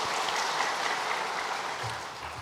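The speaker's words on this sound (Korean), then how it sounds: "주님께 우리 함께 영광의 박수를 올려드리겠습니다" A church congregation applauding during a Sunday worship service, a soft, even patter of many hands heard from a distance and sustained throughout.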